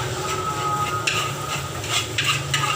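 Nasi goreng fried rice without egg sizzles in a pan at a street stall, with repeated scraping and clanking stirs of a spatula against metal breaking in over the constant hiss of frying.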